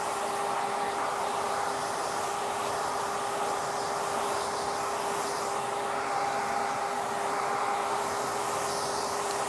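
A hair dryer runs continuously while hair is blow-dried straight with a brush, a steady close whooshing roar with a constant motor whine that holds level throughout with no talk.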